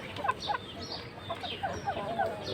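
An Aseel rooster clucking nearby, a series of short, soft, rhythmic clucks spaced irregularly over a quiet background, with no talking.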